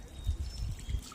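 Wet shoes squish through water on a flooded, flowing hiking trail in Tennessee on a windy day, a few soft rhythmic sloshing steps close by with trickling water.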